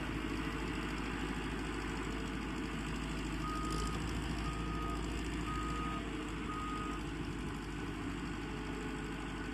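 An excavator reverses with its bucket near a stone, repeating evenly spaced reversing beeps over a low, steady idling engine, moderately distant and with no talking.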